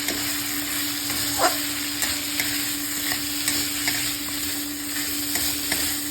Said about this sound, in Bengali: দেবো চিনি, দেবো কুড়িয়ে রাখা নারকেল, ভালো করে নেড়ে ছেড়ে নেব।